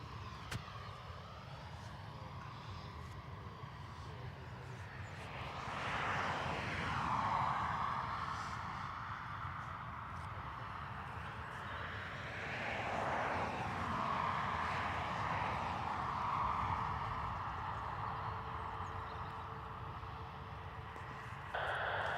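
Airbus A321neo jet departing Dublin Airport for Philadelphia, a faint, distant engine rumble with rising and falling whines that swell twice, around the middle and later on, with no voices.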